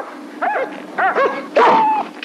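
Cartoon dogs yip and bark in short excited bursts, ending in a longer whining howl, from the 1980 animated film La Légende des 12 Mois.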